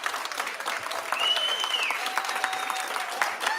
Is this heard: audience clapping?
yes